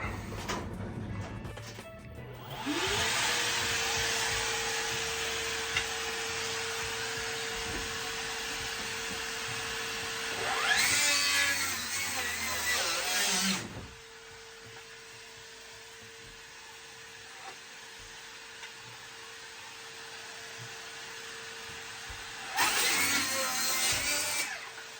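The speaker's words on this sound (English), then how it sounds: "So now I'm going to go ahead and cut that out, and hopefully the dust will be minimal." A cordless power tool cuts out a wood panel with a cordless vacuum running alongside, giving a loud steady whine that swells into harsher cutting bursts twice, then stops and starts again, close by with no talking.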